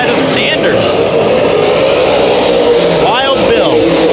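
Race cars in a heat at Bakersfield Speedway roar continuously at full throttle, with a sharp pitch-shifting pass near the end and an announcer talking over the engines.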